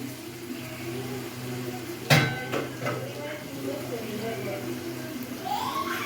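Fried duck eggs dropped into a pot of egg biryani give one sharp clatter of metal, followed by a few softer knocks and scrapes, close by, with a voice speaking throughout.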